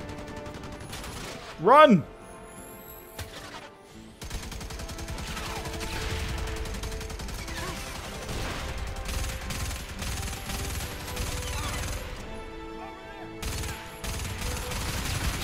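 Sniper gunfire from watchtowers in the Starhawk video game: distant, irregular shots and rattling fire spread through the scene alongside mechanical game noise, with a player shouting briefly near the start.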